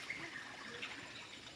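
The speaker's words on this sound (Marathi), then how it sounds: "इथून वाहतं पाणी आहे, पियासारखं पाणी आहे" Water flowing in a forest stream, a soft continuous trickle heard faintly at a distance with no voices.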